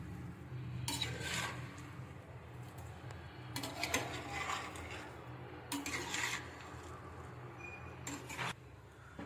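Prawns and small fish with vegetables are stirred in a pan, giving several soft bouts of scraping and clinking from the utensil against metal over a quiet background hum.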